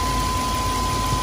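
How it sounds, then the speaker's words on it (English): Chevy Express van with a 4.3 engine idling after an injector replacement, a steady low rumble with a constant hum, running smoothly with no talk over it. "Engine is starting to run better, starting to not shaking."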